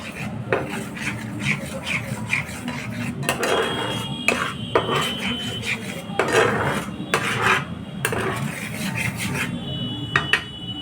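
Chhena being stirred continuously with sugar in a pan, repeated scraping and clinking strokes of a spoon against metal in an uneven rhythm, close and fairly loud, no talk.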